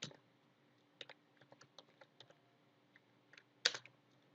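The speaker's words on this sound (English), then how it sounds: "and here I type" Keys clatter on a computer keyboard in short, irregular runs of light clicks, faint and close, with one louder cluster of strikes near the end.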